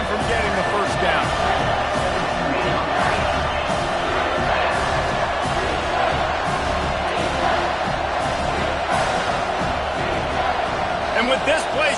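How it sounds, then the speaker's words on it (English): A loud football stadium crowd roars continuously during a TCU versus Miami game, a dense, sustained wash of cheering noise with a commentator talking over it. "And with this place rocking, the crowd forces a false start."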